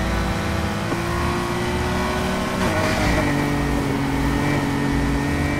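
A Nissan R34 GT-R V Spec engine drifting in the racing game Need for Speed Heat, a loud continuous engine drone whose pitch wavers and shifts as the car slides, with no speech.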